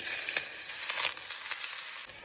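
Finely chopped potatoes sizzling in hot oil in a wok for vegetable chow mein, a close, even hiss with small crackles and no voices.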